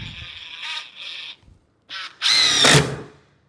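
A DeWalt Atomic impact driver drives a screw in short bursts, with a few brief whirring pulses followed by a louder, rattling hammering stretch near the end, close and alone.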